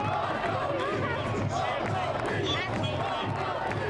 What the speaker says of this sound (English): The crowd is chanting Loco Beach.